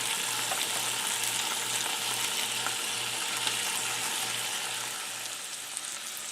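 Potatoes fry in a pan with a steady, dense sizzle and crackle that runs unbroken throughout, close up and even in level, with a faint low hum underneath and no voices.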